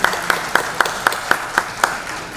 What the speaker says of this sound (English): can we applaud that